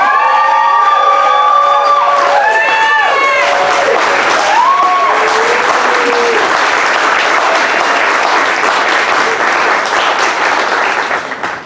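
Loud, sustained crowd applause and cheering welcoming a speaker at a Democratic women's event, steady clapping throughout with whoops and shouted voices rising over it early on, fading slightly at the end.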